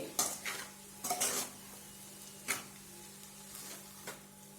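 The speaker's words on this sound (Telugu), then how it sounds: "ఇలా బాగా రైస్ అంతా కలిసే విధంగా కలుపుకోండి." A spoon scrapes and taps in a pan as fried rice and vegetables are stirred together, several short scraping strokes over a faint low sizzle, quiet and close, without speech.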